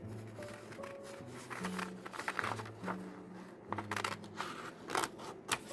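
Scissors cutting out paper pictures for an art journal, making soft repeated snips and paper crinkles close by over a low background hum.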